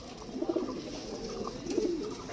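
Pigeons, Rampuri and related fancy breeds, coo in soft low repeated bursts, fairly close and moderately loud, with no talking over them.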